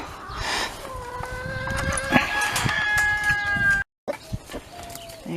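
A rooster crows loudly and repeatedly while hens cluck close by as the flock is let out of its coop into a food forest, with a short silent break near the end.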